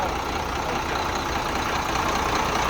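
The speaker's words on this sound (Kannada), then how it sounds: "ಇದು ಬಂದ್ಬಿಟ್ಟು ಇಂಜಿನ್ 9R." A Volvo bus engine idling, identified as a 9R engine, with a steady, dense, unbroken rumble held close and fairly loud and no speech over it.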